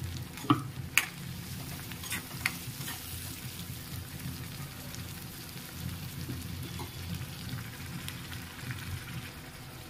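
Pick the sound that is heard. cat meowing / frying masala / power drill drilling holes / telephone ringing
frying masala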